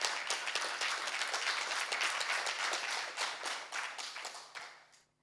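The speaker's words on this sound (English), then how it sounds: "Can we have a round of applause for Hira," An audience at an AI agents summit gives a speaker a round of applause, with distinct claps close by in a brisk, steady patter that thins and fades out toward the end.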